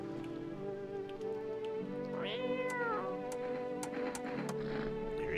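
A cat in a video game meows once in a clear rising and falling call while being petted, set against a steady background hum with light rain-like patter.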